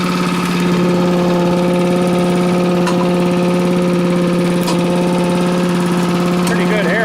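A new Honda engine fitted to a leaf-collecting mower idles steadily and close by, a constant mid-pitched drone with voices talking over it near the end.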